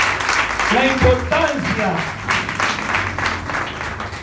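A church congregation claps for the Lord in a steady wash of applause that runs throughout, with a preacher's voice speaking over it.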